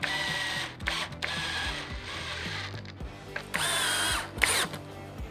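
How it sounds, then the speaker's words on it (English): A cordless drill drives screws into wooden bun feet for a rustic wood riser, whirring in short bursts with ratcheting clutch clicks and pitch changes, close and loud with no speech. "Now for my Bunfeet, I'm using just a little bit longer of a screw"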